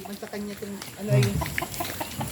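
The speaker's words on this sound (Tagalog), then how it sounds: "Dami rin manok oh." Chickens cluck and murmur nearby in short bursts, with a voice speaking over them.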